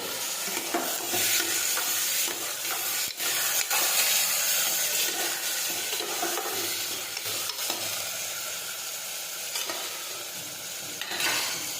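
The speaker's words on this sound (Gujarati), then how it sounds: "હવે આપણે સમારેલા ટમેટા નાખી દઈશું। હવે આપણે સાતળી લઈશું।" Chopped tomatoes sauté in a hot pan for a Gujarati cowpea (choli) curry, giving a steady, close sizzle with a frying hiss throughout and occasional stirring scrapes, with no talking.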